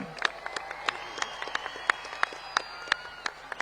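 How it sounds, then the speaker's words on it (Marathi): Sparse, scattered handclaps from a crowd welcoming Salman Bhai at the opening ceremony of the President Cup India 2026 tennis-ball cricket tournament, with sharp individual claps rather than dense applause, moderately faint and without talk. "सगळ्यांना पुन्हा एकदा सलमान भाईसाठी जोरदार स्वागताच्या टाळ्या वाजवा सगळ्यांनी"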